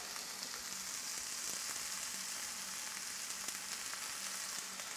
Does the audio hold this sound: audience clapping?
no